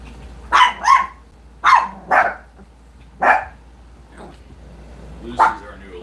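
Small chihuahuas bark in short, sharp bursts, about six yaps in uneven pairs and singles, close and moderately loud in an indoor room with quiet gaps between.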